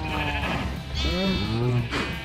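Sheep in the Minecraft video game bleat several times in a row, short wavering calls that overlap slightly, alongside game background sound.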